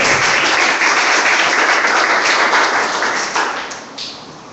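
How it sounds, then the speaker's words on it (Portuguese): A church congregation applauds together, a dense, loud wash of clapping that holds steady and then thins out toward the end. "Uma salva de palmas aqui para o nosso Senhor."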